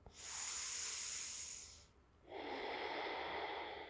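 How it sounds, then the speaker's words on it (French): Ujjayi yoga breathing: two long, close breaths made with a constricted throat, a soft wave-like hiss on the inhale followed after a short pause by a lower, rushing exhale, with no talking. "ce petit ronflement qui vient se créer au niveau de la gorge, que certains qualifient de bruit de vague"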